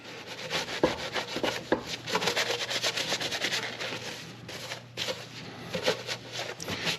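Paper towels wiped and rubbed across a cleaned engine surface on a Hyundai during cylinder head and head gasket work, a steady close scratchy rubbing with brief pauses and no talk.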